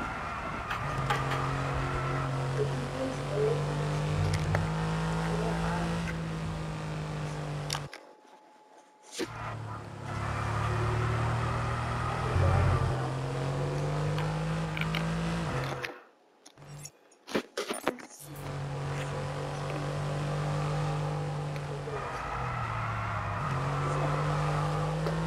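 An F1 race car engine in F1 22 holds a loud, steady whine that shifts pitch through gear changes and drops out briefly twice, with people talking over it.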